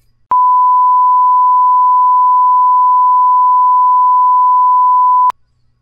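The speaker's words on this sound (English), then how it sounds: "This is 1000 Hz." A pure 1000 Hz test tone sounds as a single steady beep lasting about five seconds, loud and unchanging, with silence before and after.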